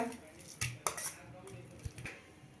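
Grated raw mango is scraped into a metal pot, giving a few sharp metallic clinks and scrapes of a spoon against the vessel, with soft shuffling between them, close and fairly quiet.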